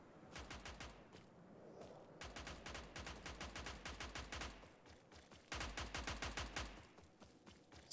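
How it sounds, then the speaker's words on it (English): Bursts of automatic gunfire near a bandit camp in the shooter game Stalker, loud rapid volleys in several long strings with short pauses between them, no talking. "Somebody is shooting"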